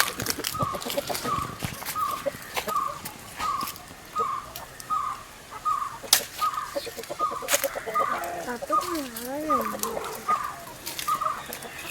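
Free-range native chickens cluck steadily in a rhythmic series of short calls, with a few drawn-out warbling notes and occasional sharp knocks and rustles nearby.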